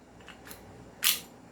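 A CZ P09 airsoft pistol has its slide racked once: a single sharp metallic clack close by, preceded by a couple of faint clicks, with no talking.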